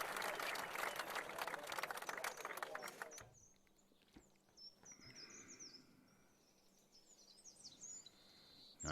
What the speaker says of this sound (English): The crowd appreciates it.